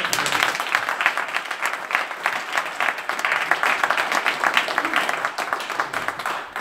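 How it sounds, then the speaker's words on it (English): A church congregation claps hands during an all-night prophetic prayer service, loud rhythmic group clapping in a fairly steady beat that keeps going for several seconds, close and without talk. "Clap your hands."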